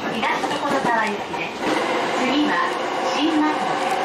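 Rumbling hum of a moving JR Musashino Line train heard from inside the carriage, with a recorded Japanese announcement voice speaking over the rolling noise.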